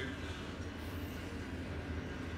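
A long freight train loaded with iron ore rolls past in a continuous, even rumble and rattle of wagons, steady and fairly loud, with no voices over it.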